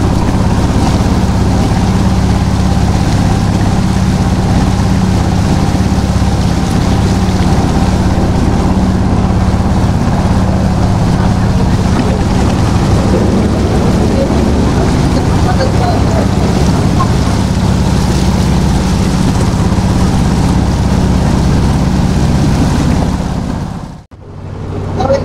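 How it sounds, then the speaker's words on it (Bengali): A large ship's or motorboat's engine drones loudly and constantly on a river for over twenty seconds, a heavy low rumble with water wash, cutting off briefly near the end. "জাহাজের অনেক বড় শব্দ, অনেক শব্দ"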